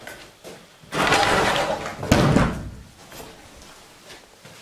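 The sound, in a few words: door slamming shut by itself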